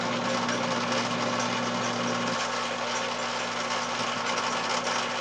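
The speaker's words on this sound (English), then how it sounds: "So I'm going to turn the lathe on" Lathe running to true the commutator of a Gen 5 Autolite generator, a steady close whirring motor drone with a constant hum that shifts slightly partway through, no talking.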